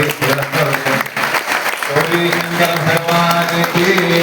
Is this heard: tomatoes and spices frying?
no